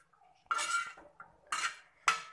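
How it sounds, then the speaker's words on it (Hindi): Spicy potatoes being stirred on a tawa, with three loud metallic scrapes of a spatula against the pan, separated by short pauses and small clinks. "अच्छे से हम इसे मिक्स कर देंगे"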